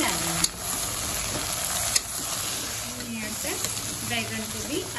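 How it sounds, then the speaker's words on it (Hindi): Brinjal frying on top of potatoes in a pan gives a steady sizzle throughout, with a couple of sharp utensil knocks near the start and faint background voices underneath. "बैंगन को भी आलू के ऊपर फ्राई होने देंगे।"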